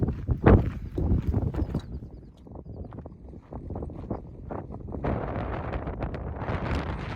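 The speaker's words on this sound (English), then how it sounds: "you can hear the wind, and it's just out in the middle of the open" Strong wind gusting across open desert on the Arizona Trail, a steady rushing roar buffeting the microphone throughout, with a brief heavy thump early on and the noise growing brighter and harsher toward the end.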